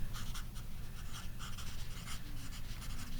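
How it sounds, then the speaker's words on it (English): A pen scratches across paper while writing a name, giving a steady run of short, dry strokes for a few seconds over a low background hum, with no one talking. "But I'll write his name down anyway."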